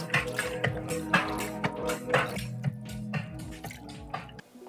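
Water poured and splashed over a Sylvox 15.6-inch waterproof portable TV rated IP66, a continuous close splattering and dripping with uneven surges, no talk.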